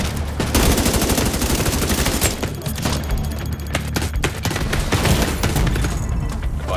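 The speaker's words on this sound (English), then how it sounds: "Launching grenade!" Loud, dense gunfire and booming grenade-launcher blasts in the video game The Division 2 pound continuously, with overlapping rapid shots and explosions filling the whole stretch.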